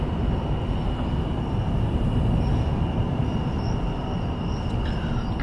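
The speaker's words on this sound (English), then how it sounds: "I love the sound of the bugs." Insects chirping outdoors at night, a continuous high steady trill over a dense rumbling background, even in level throughout.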